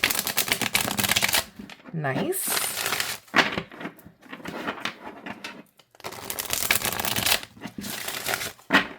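Crisp riffling and shuffling of tarot cards in bursts, with short pauses between, while a person talks briefly nearby.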